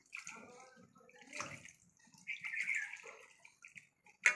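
Water poured into a cooking pot in a home kitchen, a faint splashing and trickling in short bursts, close by and quiet, ending with a brief clink.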